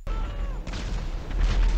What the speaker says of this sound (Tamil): இப்போ பார்த்தீங்கன்னா ஆஸ்ட்ராய்டு வந்து பயங்கரமாக வர ஆரம்பிச்சிருச்சு